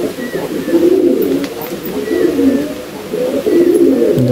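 Several flying-breed pigeons coo in a close, constant murmur, their low throaty rolling calls overlapping throughout.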